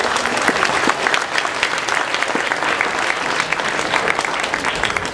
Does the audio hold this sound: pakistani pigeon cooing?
no